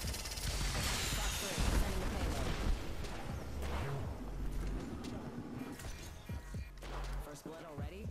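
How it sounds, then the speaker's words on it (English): Gunfire in the video game Apex Legends, with the player under attack: loud, irregular shots and bursts amid a busy mix of game effects, with a voice talking over them. "Getting shot at."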